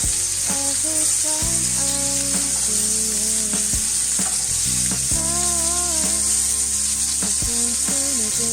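A rib eye steak fries in a hot pan at medium heat, making a loud, continuous close sizzle with music playing underneath.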